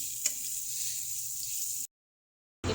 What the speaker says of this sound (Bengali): তো এখন যে পটল ভাজছি